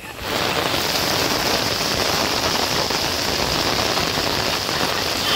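Heavy rain pours steadily and loudly across a university campus during a midday downpour with flooding, a dense continuous hiss of water with no break and no talking.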